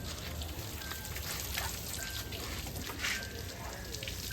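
Water gushing out for washing vehicles at a washing service, a steady rushing spray heard with background noise and faint tonal whines.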